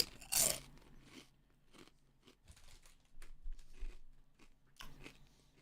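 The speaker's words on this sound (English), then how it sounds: "Let's give it a crunch test, boys." Close, crisp crunching and chewing of Aberdeen Angus steak and peppercorn sauce flavoured crisps, with an opening loud bite followed by scattered softer munches and faint packet crinkles.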